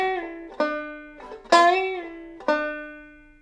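Banjo notes bent with a choke, three or four plucked tones in a slow country melody, each pitch sliding up or back down and ringing out clearly and alone.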